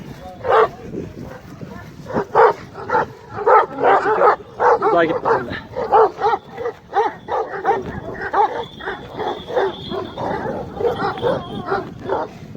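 Several young Kangal dogs bark repeatedly and excitedly at a strange dog in a garden, with yips and whimpers mixed in, while a person talks over them outdoors.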